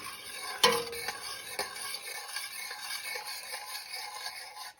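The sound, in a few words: mixing poke salad with hot sauce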